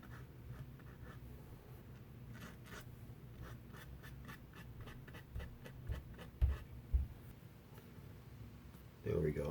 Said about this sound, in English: Use the brush to kind of straighten it out and spread it out.